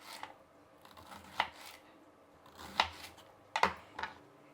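A knife slices a raw banana on a board in quiet, separate crisp cuts, a handful of soft chops spaced a second or so apart with faint scraping between them.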